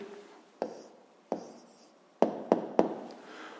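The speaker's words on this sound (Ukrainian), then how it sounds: "записуємо відповідь." An answer to a fifth-grade maths exercise is handwritten on paper, with several short, distinct pen strokes and taps scratching close by in a quiet room.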